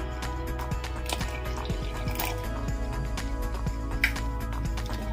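Water pours into chocolate cake batter with evaporated milk, giving steady close splashing and dripping over a low kitchen hum.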